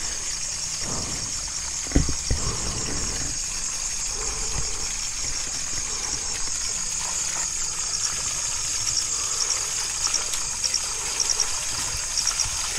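Water flows steadily outdoors at night, a constant rushing wash with a high insect-like whine above it and occasional faint knocks, no voices.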